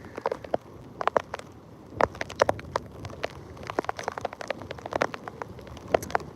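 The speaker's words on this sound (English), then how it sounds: "it's raining. It definitely is raining. The wind is picking up." Heavy rain from Hurricane Helene patters and crackles on a nearby surface in sharp, irregular bursts over a low, steady wash of wind.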